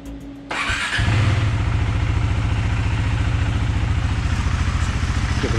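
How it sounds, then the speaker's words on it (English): A 2020 KTM 390 Adventure motorcycle engine, just after an oil change, cranks and catches after a short whir, then settles into a close, steady, pulsing idle. "I'm just gonna start it up, make sure everything's good."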